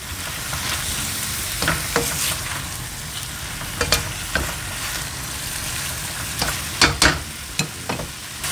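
Shrimp stir-frying in a pan, a steady close sizzle with scraping stir strokes and clicks of the utensil at irregular intervals, no talking.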